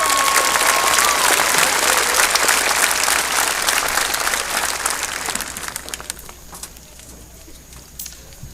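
Audience applause at a high school commencement ceremony: a dense, loud burst of many hands clapping that gradually thins and fades over several seconds until only scattered claps remain.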